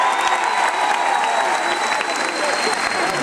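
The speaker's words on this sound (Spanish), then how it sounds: "ahora que me aplauda mi viejo" A theatre audience at a Caracas show claps steadily and densely, a continuous close wash of applause with a few scattered shouts mixed in, holding even throughout.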